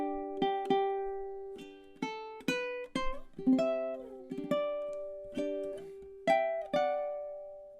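Fingerstyle ukulele picks the Shenandoah melody, with single plucked notes and a few chord strikes ringing in a slow, flowing phrase. The playing is close and clear, with no talking.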